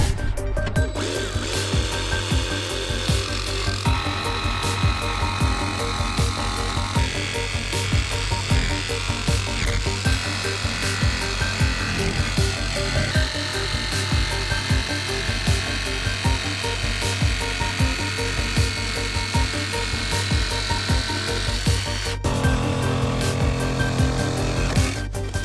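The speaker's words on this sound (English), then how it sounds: "we can get the jigsaw blade in the hole and then start the cut." A jigsaw cuts through the metal roof of a van while a Maxx Air roof fan is being fitted, giving a loud, steady buzzing drone that runs almost unbroken for about 22 seconds and then drops to a lighter rattle.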